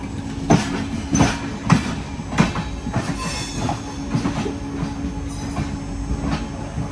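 A late-running passenger train pulls into Mangalore station, its wheels thudding over rail joints in an uneven beat beneath a steady mechanical hum, with occasional squeals rising over the close, continuous rumble.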